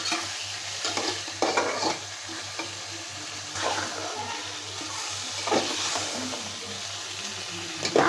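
Chicken skin and onion sautéing in a pan while being stirred, a steady sizzle with scraping spatula strokes at irregular intervals, close and moderately loud, with a faint low hum underneath throughout.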